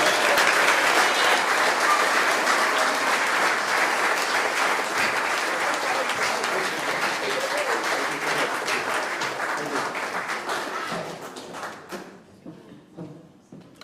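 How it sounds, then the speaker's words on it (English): An audience at a community spirit award ceremony applauds to welcome a speaker, a dense burst of clapping that thins out and fades toward the end. "So please join me in giving a warm welcome to Weymouth Falls' very own Dr. Henry Bishop"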